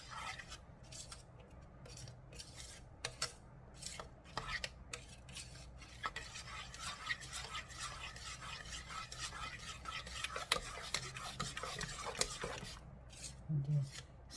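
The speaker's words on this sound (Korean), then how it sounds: "이걸 저어주세요." Coffee soap mixture made from used coffee grounds being stirred in a kitchen, giving a steady scraping, rubbing texture with irregular clicks and knocks against the container, close and moderately quiet, with no talk.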